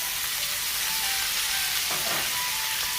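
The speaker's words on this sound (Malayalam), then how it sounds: "ഇതിനകത്ത് കിടന്നൊന്ന് ഒരു മിനിറ്റ് മതി ഒന്ന് സോട്ട് ചെയ്തെടുക്കാൻ" Vegetables with chicken masala and soy sauce sauté in a pan with a loud, continuous close sizzle, and a brief stirring scrape partway through, with no talk.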